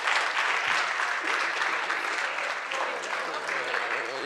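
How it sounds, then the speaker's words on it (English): A conference audience claps steadily and loudly throughout, a dense sustained applause with a faint murmur of voices underneath. "Let's give an applause to her."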